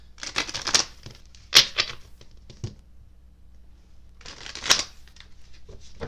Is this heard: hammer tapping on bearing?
no